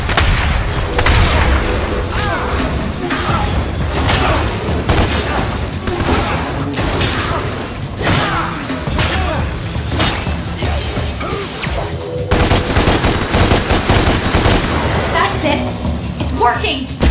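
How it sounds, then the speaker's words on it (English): Dense rapid gunfire blasts at a demon in a video game, continuous loud shots and booms layered with game effects and a talking voice throughout. "Use your guns to shoot him down!"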